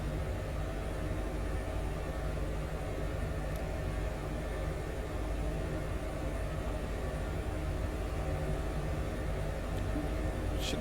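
Airbus H145 helicopter engine 1 starting in Microsoft Flight Simulator 2024, a steady broadband whirring roar with low hum, even and continuous throughout at moderate level, no voices.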